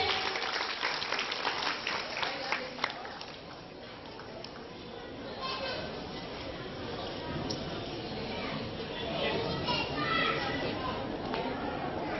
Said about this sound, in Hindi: तो एक बार जोरदार तालियों से इनका भी स्वागत कीजिए।